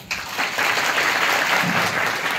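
An audience breaks into dense, continuous applause for the character of Mother Sita, a steady wash of clapping close and loud for a couple of seconds with no talk over it.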